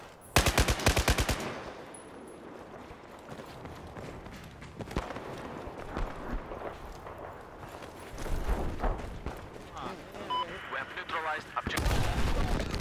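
Rapid bursts of automatic gunfire in a first-person shooter match, loud and repeated in clusters across the span, with footsteps and game action between volleys.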